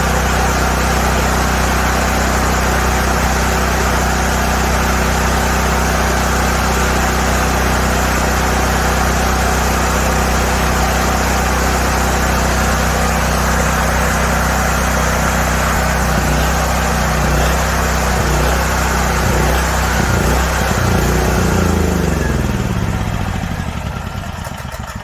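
A Black Max 7000W tri-fuel generator engine runs loud and close on propane, a steady droning rumble that holds for most of the time and then begins to fade toward the end.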